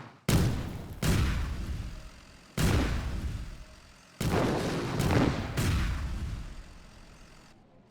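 Cannons fire in the Power & Revolution 2023 strategy game, with five heavy booming blasts in irregular succession. Each shot has a sharp attack and a long rumbling tail that overlaps the next.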